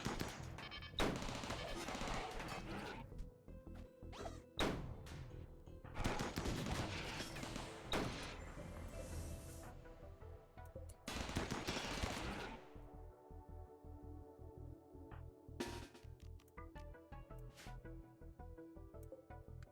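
Gunfire in a RimWorld colony battle: sharp bursts and rapid volleys of shots cracking in clusters, then thinning to scattered single reports with ringing decays.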